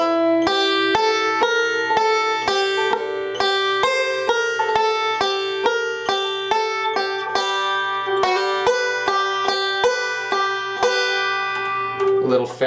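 Fretted notes in a forward-backward picking roll for a Lonesome Road Blues break form a steady, bright stream of plucked tones at a moderate pace, close and clear, with no talking over them.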